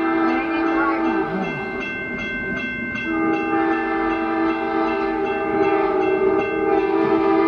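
Amtrak passenger train passing nearby, a sustained chord-like horn holding steady over a rolling rumble with faint clicking of wheels, loud and continuous throughout.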